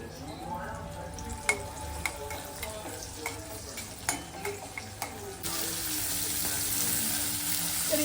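Chili and salt frying in oil for a vegetable dish, with a steady sizzle, and a spoon clinking and scraping against the pan in irregular taps. The frying swells into a louder hiss near the end.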